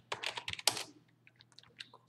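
Quick clatter of keystrokes on a computer keyboard as a Ctrl+S save shortcut is pressed, a dense burst of close clicks followed by a few lighter, scattered taps.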